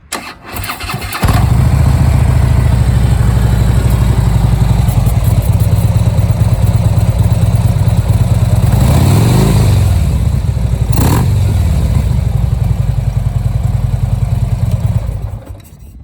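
A 2014 Harley-Davidson Street Glide Special motorcycle starts up close and loud, then settles into a steady, heavy, lumpy idle that holds with a couple of brief throttle blips before the sound cuts off near the end.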